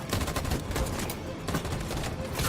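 Rapid volleys of gunfire crackle through a firefight in the video game Detroit: Become Human, dense overlapping shots rattling close and loud without pause.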